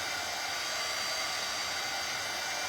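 A hair dryer blows hot air over a thin paper bunny print to flatten it, giving a steady, unbroken whooshing whir close by with no voices.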